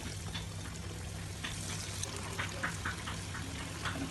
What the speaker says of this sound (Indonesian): Masukkan ayam filet dalam minyak panas.